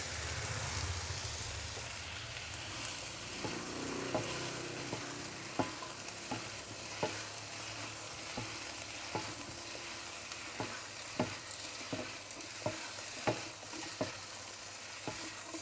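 Mama instant noodles are stir-fried as yakisoba with sauce, a strong sizzle under regular clacking strokes of a spatula against the pan, repeating at a steady rhythm.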